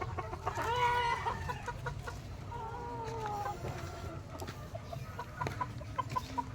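Gamefowl chickens of the Asil and golden boy sweater breeds cluck and call nearby in short, repeated bursts over a low, steady background rumble.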